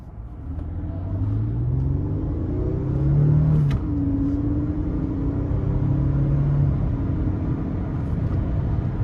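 A 2008 Lexus ES 350 with its 3.5-liter V6 pulls hard under acceleration, heard from inside the cabin as a steady rising drone with a shift partway through, moderately loud beneath road rumble.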